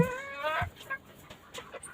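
A pet chicken lets out a drawn-out squawking cluck up close, followed by a few faint soft clucks and clicks.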